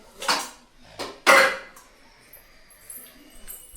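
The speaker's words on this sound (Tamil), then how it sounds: "சிங்கில கொஞ்சம் பாத்திரம் கிடைக்கு விளக்கிடலாம்" Dishes and vessels get washed in a kitchen sink, with a few loud clattering clanks of metal pots and utensils in quick succession, then quieter faint rattles and splashes.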